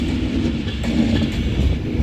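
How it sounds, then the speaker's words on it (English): An East Midlands Railway class 158 diesel unit departs Manchester Piccadilly station, a steady loud engine drone and rolling rumble with low hum, continuous and close, with no talk. "departing behind me is an East Midlands, is that double East Midlands Railway 158, heading to Norwich from Liverpool Lime Street"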